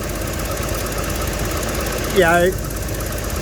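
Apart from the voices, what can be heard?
1980s Ford EFI engine running on cold start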